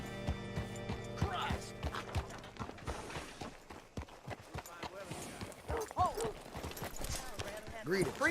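Horse hooves clip-clopping in Red Dead Redemption 2, a steady run of hoofbeats near the listener, with game dialogue, music and other ambience layered over them.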